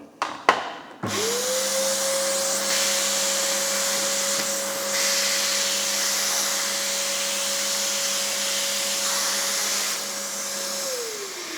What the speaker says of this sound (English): I'm going to use the crevice tool first. I'm going to power on, and I'm just going to show you just how well it picks up all of this dirt